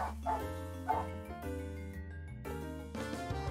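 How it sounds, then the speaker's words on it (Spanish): A dog barks in short, fairly loud yips and woofs repeated across the clip, set over steady background music from a Pokémon Brilliant Diamond/Shining Pearl game session. "Y el perro sigue ladrando. ¿Lo escuchan?"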